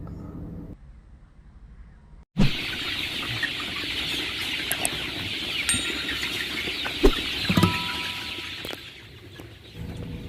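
Chickens housed in a traditional coop with a thatched palm-leaf roof, clucking and calling steadily at close range over a dense bed of ambient noise, with a few sharper squawks and rustles scattered throughout.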